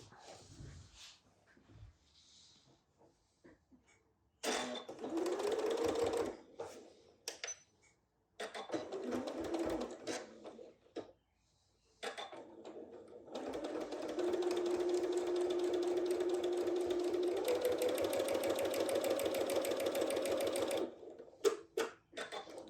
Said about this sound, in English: we are going to sew right along on each of these edges here to close the bag up